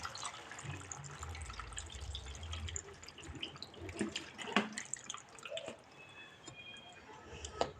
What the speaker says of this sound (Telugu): వాటర్ అనేది యాడ్ చేద్దాం